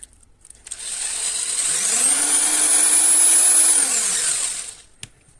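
Whirring electric motor from an Audi A6 C5 heater fan spinning while its commutator is sanded with sandpaper; a high, steady whine rises over about a second, holds, then winds down, followed by a faint click.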